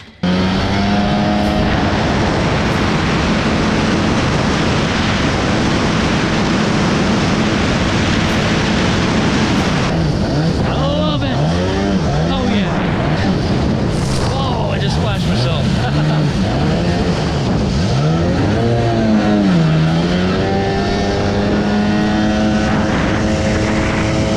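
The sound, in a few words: 1995-96 Sea-Doo XP jet ski engine running at speed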